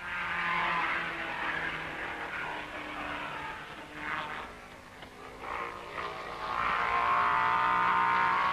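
A 1950s racing car driven by Castellotti passes at speed through the Raidillon bend at Spa during practice, its engine a distant, rising and fading roar under a faint crowd-like background.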